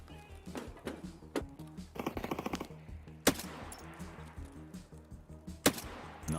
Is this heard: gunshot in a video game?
yes